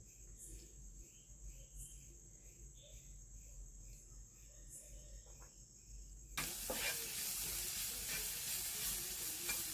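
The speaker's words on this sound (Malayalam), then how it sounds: "നല്ലപോലെ ഇളക്കി കൊടുക്കുക" Spice powders stirred into a hot frying pan while making Palakkadan ulathu porotta, a loud sizzle bursting in partway through after a quieter stretch with insect chirps and faint background sounds.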